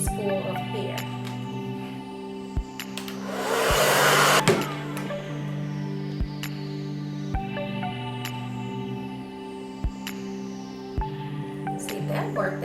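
A blow dryer runs on high speed and high heat while stretching a wash-and-go with banded hair, a steady close whirring drone with a louder burst of airflow near the middle and a few faint clicks.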